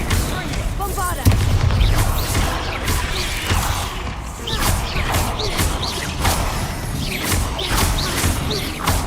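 Spell blasts and crashing impacts in a Harry Potter video game, with a Bombarda blasting charm bursting among repeated bangs and smashes over a busy, dense game-combat din, while voices talk through it.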